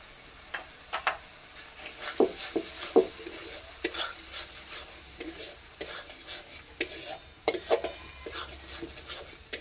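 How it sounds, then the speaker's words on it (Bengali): Spice paste frying in oil in a pan for a mixed vegetable dish with gourd and fish, a steady low sizzle broken by frequent scraping stirs and spatula clinks on the pan, close by with no talk. "যতক্ষণ না তেল ছেড়ে বেরিয়ে আসছে ততক্ষণ আমি এটা ভাজতে থাকবো"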